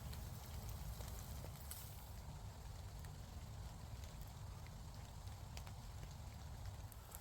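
Rain falling outdoors around a campfire, a faint, steady patter with scattered drop ticks over a low rumble, continuous and distant.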